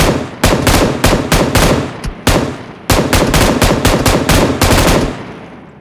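Loud bursts of automatic gunfire in PUBG Mobile, several rapid volleys with short gaps between them, close and punchy, then a trailing fade at the end.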